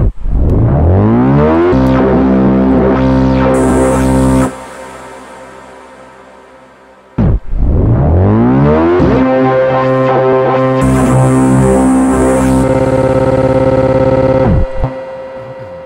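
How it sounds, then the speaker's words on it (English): Heavy synthesized tones in a build-up pitch downward with a tape stop effect, drop out, then restart with bitcrushed gritty distortion and retriggered stuttering repeats that speed up, loud and processed. "but I'm doing a tape stop effect,"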